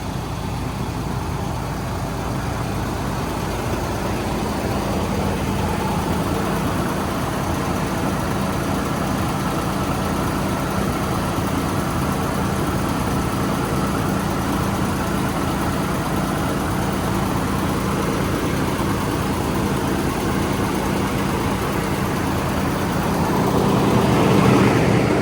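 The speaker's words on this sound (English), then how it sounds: "I'm gonna show you the engine." A 2012 Freightliner truck diesel engine idles at close range with a steady, unbroken low rumble and hum for a long stretch, swelling slightly louder near the end, with no talking.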